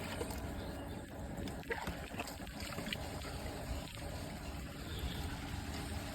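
Water rushes steadily through a venturi injector into a paddy field channel, carrying an EM fruit solution, a continuous broadband gush with faint trickling and sloshing throughout.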